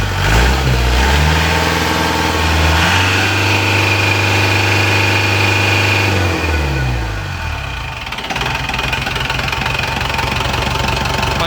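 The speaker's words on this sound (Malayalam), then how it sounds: "കേട്ടോ ആ ഒരു എൻജിൻ്റെ സൗണ്ട് ഉണ്ടോ?" A Mahindra DI jeep diesel engine runs close and loud, rising and falling through revs with a knocking, rumbling idle between pulls, steady throughout without talk.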